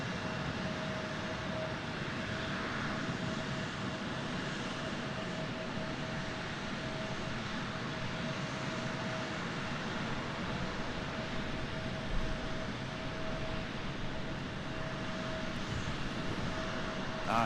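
A JetBlue airliner comes in to land at Raleigh-Durham airport in stormy weather, a steady broad engine roar with a faint sustained whine, heard from a distance without any speech.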